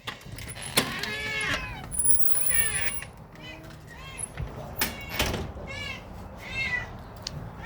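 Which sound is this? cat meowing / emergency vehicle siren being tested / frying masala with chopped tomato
cat meowing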